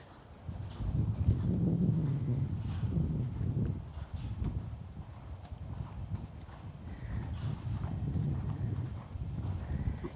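A hunter horse canters toward a jump in a riding arena, soft muffled hoofbeats and body noise rolling steadily nearby, with faint breathing-like rustle between strides.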